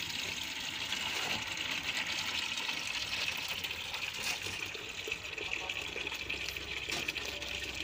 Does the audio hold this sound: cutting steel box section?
no